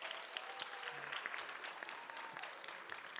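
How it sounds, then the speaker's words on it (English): Faint applause from an audience at a nursing graduation ceremony, honoring the graduates with a steady wash of scattered clapping that stays even for about three seconds, heard from a distance and without voices. "can we applaud our graduates one more time?"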